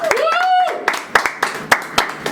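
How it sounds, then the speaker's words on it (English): A small audience claps for a guest vegan chef at a cooking show. A voice opens the clip, then about eight sharp, separate hand claps ring out close by, sparse and uneven rather than a full roar. "Everybody give her a round of applause"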